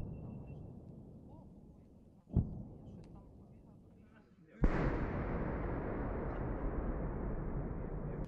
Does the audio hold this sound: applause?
no